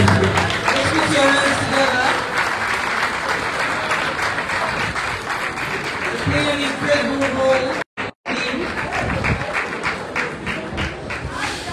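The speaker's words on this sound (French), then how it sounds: "Applaudissez pour eux." Applause from the audience at a New Year greetings ceremony, steady clapping running almost throughout with talk mixed in, briefly cutting out near the end before resuming.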